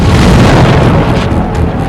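A meteoroid explodes over a Siberian forest in a deep, sustained boom that fills the low end, loud and rumbling, then eases slightly toward the end.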